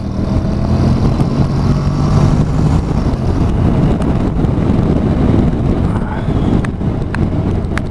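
A Honda NC750X DCT motorcycle accelerating in automatic drive mode, its engine a steady, loud drone heavily buffeted by wind rush across the microphone throughout.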